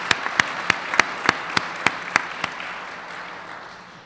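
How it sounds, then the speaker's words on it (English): Audience applause at a 2014 Hall of Fame induction ceremony, a scattered round of clapping with a few sharp, distinct claps standing out before it thins and fades, heard alone without voices. "So let's give them a round of applause."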